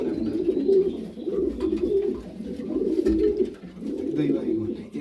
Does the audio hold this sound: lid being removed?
no